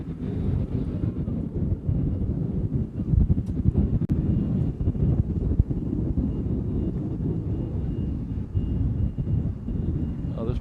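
An American airliner takes off at Honolulu airport at sunset, a loud low jet roar rumbling steadily at a distance with some wind noise.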